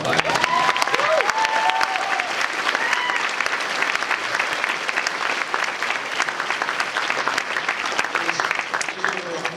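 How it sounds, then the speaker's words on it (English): A large crowd claps steadily and loudly at a New York Comic Con 2013 panel for Batman: Arkham Origins, sustained applause with some voices and cheers mixed in. "hear the applause that you've given"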